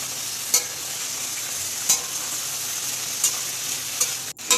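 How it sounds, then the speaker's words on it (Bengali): Meat frying in hot oil with onions already browned red, giving a loud, continuous sizzle broken by about four sharp stirring scrapes spaced evenly through. "তেল দিয়ে তোমার পেঁয়াজটা লাল লাল করে ভেজে নিয়েছে আর তারপরে পেঁয়াজটার সাথে মাংসটা ভেজে নেবে"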